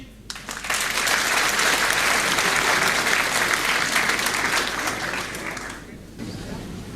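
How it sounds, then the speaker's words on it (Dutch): A large audience applauds a magician at a Dutch stage show in 2021, with sustained, loud, dense clapping and some crowd murmur that fades slightly near the end. "geef een groot applaus voor goochelaar Dirk."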